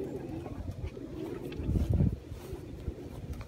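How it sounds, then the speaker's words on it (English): Lots of pigeons cooing in a bird housing pen, low murmuring coos blended with wind noise and faint rustling, swelling briefly near the middle. "lots of pigeons."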